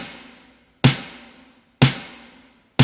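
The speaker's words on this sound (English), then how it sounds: "Okay, now let me go ahead and add a snare to this." A stacked snare drum pairs a dry layer with a mostly wet reverb layer in a production of a song. Three loud, sharp hits land about a second apart, each trailing off in a long washy reverb tail.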